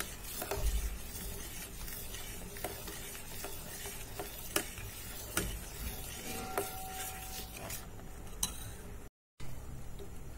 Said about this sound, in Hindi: हमें कंटिन्यूसली इस तरह स्टिर करते रहना है